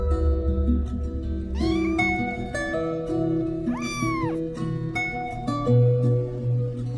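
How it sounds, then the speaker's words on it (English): Several cats meow in turn, with rising and falling wails and a couple of drawn-out caterwauls over a steady low background, fairly close and clear, with no talking. "Cats and kittens."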